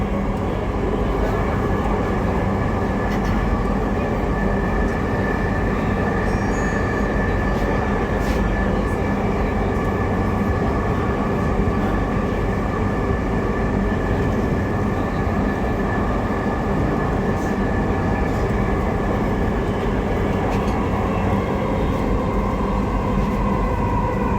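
A Dhaka metro rail train runs between stations, heard from inside as a loud, unbroken rumble with a steady whine. It holds at an even level the whole time, with no clear speech over it.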